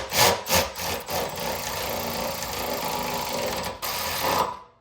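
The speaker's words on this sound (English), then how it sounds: "We're gonna tighten the two Allen wrench bolts on each side." Allen wrench tightening the bolts on Westin Pro-e power running boards, a close, steady metallic ratcheting and rubbing sound that runs continuously with a few sharper clicks at the start.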